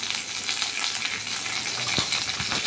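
Green chilies and onion fry in oil in a wok (kadai), giving a steady, close sizzle with a few stirring scrapes and no talking.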